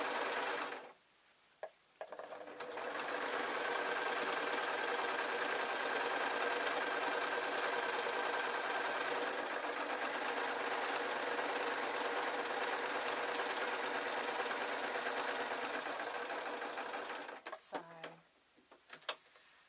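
Domestic sewing machine stitching through quilt backing and wadding, a steady continuous mechanical whir running for about fifteen seconds after brief starts and stops, close and alone with no voices.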